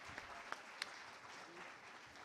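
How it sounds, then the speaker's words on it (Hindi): An audience at a medical conference claps steadily for a speaker, the applause soft and somewhat distant, with a few sharper individual claps near the start. "तालियां बंद नहीं होनी चाहिए"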